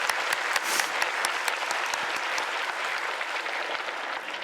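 A church congregation applauds during a Sunday service that sends a missionary family to Africa: steady, dense clapping from many hands, loud and close, sustained throughout without pause.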